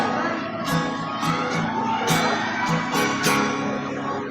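A noisy crowd at a small music venue, a dense, close wash of chatter and shouting with scattered whoops and sharp bursts of noise throughout.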